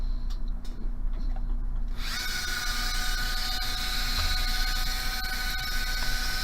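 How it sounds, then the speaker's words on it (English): Quiet clicks give way to a loud, high-pitched power drill whining continuously as it bites into metal flatware, steady and close with no talk. "So here we go with drilling."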